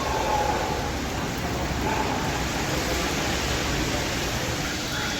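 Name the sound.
heavy rain with strong winds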